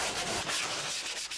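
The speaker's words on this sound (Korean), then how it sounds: "쓱싹쓱싹 사포 소리를 가락삼아" Steady rasping of sandpaper rubbed back and forth over wood, close and continuous, with no one speaking.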